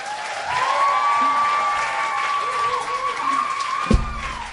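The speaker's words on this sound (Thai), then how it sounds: "ขอเสียงปรบมือด้วยค่ะ" An audience applauds during an on-stage talk show segment honouring a self-written song, a steady wash of clapping with a sustained tone above it and a low thump near the end.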